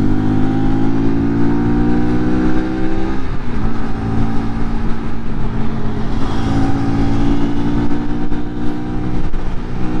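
A Lexmoto RSS Street 125cc motorcycle accelerates hard out on the road, its loud engine note climbing through the gears under constant rushing wind noise.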